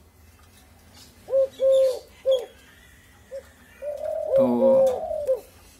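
Pet doves (Eurasian collared, emerald and spotted doves) coo close by in a quiet room: a few short separate coos, then a longer rolling coo near the end, with one brief spoken word.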